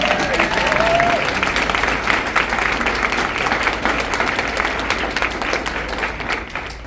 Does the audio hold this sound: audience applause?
yes